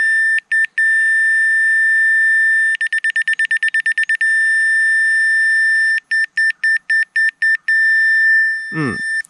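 Sharp electronic beeping from a CIGMAN laser receiver: a few spaced beeps, then a fast rapid burst, then a slower run of pulses, loud and close, ending with a brief rustle.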